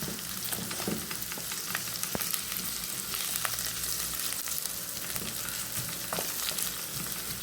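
Onions frying in oil in a pan for a red stew: a steady, close, loud sizzle with crackles and occasional stirring scrapes, continuous throughout with no talking.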